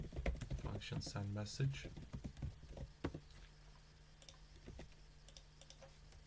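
Code being typed on a computer keyboard: quick bursts of close, light key clicks under a person speaking, followed by sparser taps as the voice stops.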